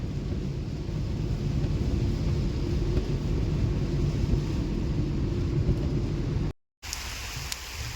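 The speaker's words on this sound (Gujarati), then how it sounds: "રસ્તામાં જબરજસ્ત વરસાદ છે" Heavy rain pours on a moving car on the road near Vapi as a loud, continuous roar with low rumbling. It cuts out abruptly near the end, then resumes more thinly.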